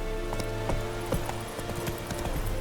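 Hooves of Roach, a horse in The Witcher 3: Wild Hunt, clip-clopping in a steady rapid galloping rhythm, close and fairly loud, with no voices over them.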